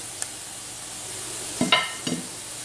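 Galettes cooking in a pan, a faint low sizzle broken by a few soft scraping and stirring knocks near the end, with no voices.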